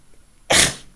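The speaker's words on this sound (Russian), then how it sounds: "Сейчас я чихнет, наверное." A single sharp, breathy sneeze bursts out close to the microphone after a quiet moment and fades within a fraction of a second.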